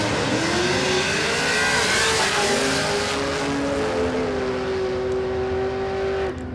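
Drag racing car at a no-prep event at Warwick Dragway, its engine running and revving loudly with rising and held harmonic tones, close and continuous throughout with no talking.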